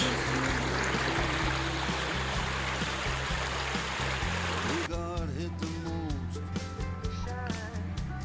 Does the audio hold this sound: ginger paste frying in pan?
no